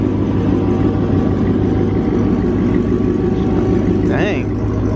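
Dodge Hellcat engine idling at a late-night car meet, a loud steady low rumble held throughout with a brief higher whine near the end, close and continuous.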